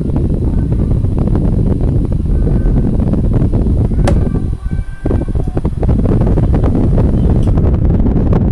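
Electric fan whose motor bushing was swapped for a ball bearing, running smoothly with a steady, loud, close airy whoosh and constant low hum throughout, dipping briefly midway.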